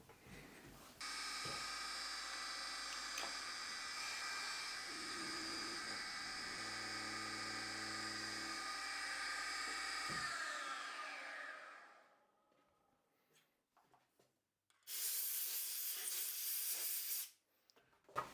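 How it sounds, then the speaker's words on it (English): Deckel high-speed milling head running a ball end mill with a tilted spindle at 4,750 RPM, a steady loud whine and hiss of cutting for about twelve seconds, then winding down, with a brief burst of hiss near the end. "it's cutting very nice. The tilting of the spindle for a ball end mill does a lot."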